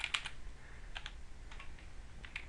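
A computer keyboard is used to enter a password, producing small clusters of quick, crisp key clicks with short gaps between them. The taps are close and moderately quiet, with no voices.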